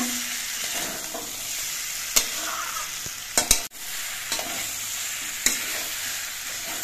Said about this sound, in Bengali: মিষ্টি কুমড়ো, নারকেল আর ছোলা। এবার সবকিছু দিয়ে আরো কিছুক্ষণ কষিয়ে নেব।